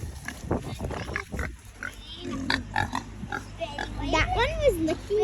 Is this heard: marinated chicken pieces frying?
no